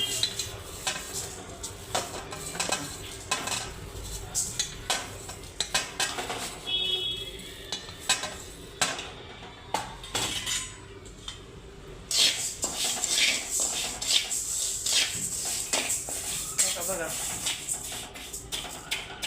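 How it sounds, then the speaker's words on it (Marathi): Dry rice grains roasting in a pan while being stirred, giving a steady rustling scrape with frequent clinks of the spoon against metal, grainy and close, with some talking over it. "हे तांदूळ चांगले भाजून घेऊत आपण मग एकदम चांगले भाजून घ्यायचे तांदूळ"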